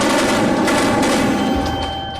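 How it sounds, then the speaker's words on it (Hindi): Gunmen fire on a restaurant door during an attack in Mumbai: a dense, continuous burst of rapid gunfire fills the whole clip at close range, loud and unbroken, with a slight drop near the end. "उन्होंने दरवाजे पर गोलियां चलानी शुरू कर दी।"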